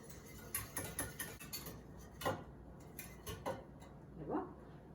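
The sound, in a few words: stirring milk and eggs in a dish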